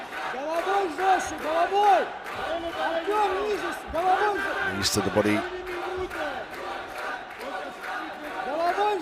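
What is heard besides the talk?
crowd chanting Deutschland for Germany at MMA event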